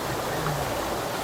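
River water at a riverside campsite in Sentul, a steady broadband rush that holds even and fairly loud throughout with no voices.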